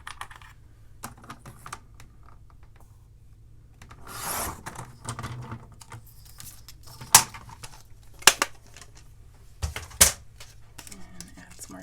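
Sticker paper is sliced in a paper planner: quiet rasping strokes and scattered small clicks and taps, with a few sharper cuts standing out near the end.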